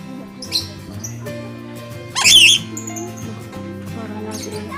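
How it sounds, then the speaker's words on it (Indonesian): A lory parrot at a bird breeding park in Bantul, Yogyakarta gives one loud, harsh squawk amid a few softer chirps, over background hum and faint nearby voices. "Nuri ini bagus ya."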